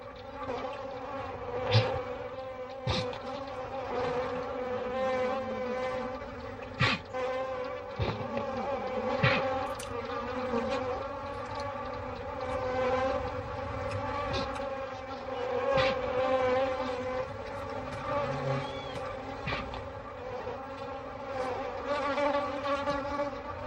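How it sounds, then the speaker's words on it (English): A dense swarm of bees buzzes steadily and loudly throughout, a constant droning hum with occasional individual insects zipping past close by. "African bees, like everything else, are desperate for sustenance."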